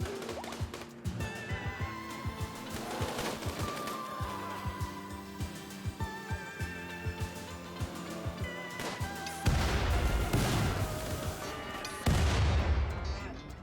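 Bombs exploding in a video game, a dense run of sharp, rapid blasts and cracks over game music, with two louder, heavier booms rolling in toward the end.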